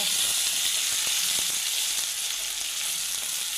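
Onion and coconut paste frying with garlic in a pan for mutton curry gives a steady, close, loud sizzle with hiss, running unbroken and alone.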